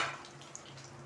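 Black peppercorns fry in hot oil over a low flame for a medicinal leaf kuzhambu, giving a brief, faint, steady sizzle.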